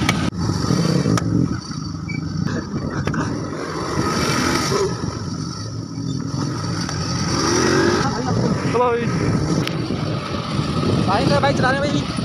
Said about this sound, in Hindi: भाई का बाइक चला रहे भाई